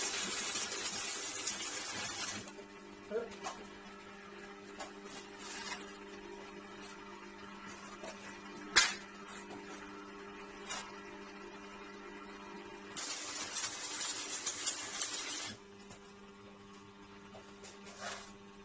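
Steel pieces for a homemade cart tow hitch hook are tack welded, giving two crackling, buzzing bursts of a few seconds each, separated by quieter shop hum and a single sharp knock.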